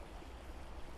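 A little brook trickles in a steady, faint wash of flowing water with no voices, heard alone for a brief moment.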